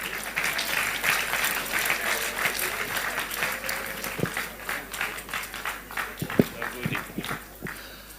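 Sustained crowd applause fills a political rally hall for a welcomed speaker, a dense steady wash of many hands clapping, with a few sharper knocks and thumps near the end.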